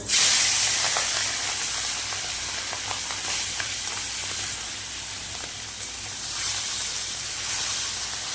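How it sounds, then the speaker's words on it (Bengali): Hilsa fish pieces, salted and coated in turmeric, frying in oil in a wok, making a loud hissing sizzle that bursts at the start and then settles into a steady bubbling hiss, with no voices. "মাছগুলো আমি হালকা করে ভেজে নেব"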